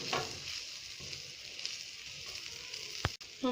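A coriander dosa sizzles and fries steadily on a pan over a low flame, a close continuous hiss with a brief knock near the end.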